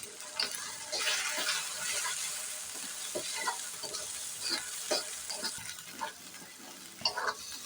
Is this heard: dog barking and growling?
no